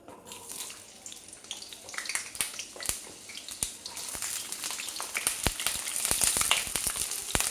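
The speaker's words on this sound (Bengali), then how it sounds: "কড়াতে একটু তেল দিয়ে তা যখন গরম হয়ে যাবে আলুগুলো দিয়ে দিতে হবে" Potatoes frying in hot oil in a kadai, a building hiss of bubbling oil that grows louder and busier, crackling with many sharp pops and spits up close.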